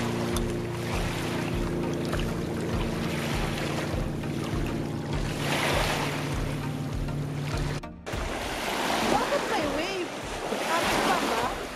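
Waves washing against the shore at a dog-friendly Lake Tahoe beach, a steady broadband wash under gusty wind buffeting the microphone, with a low boat-like drone in the first part and a brief break near the end.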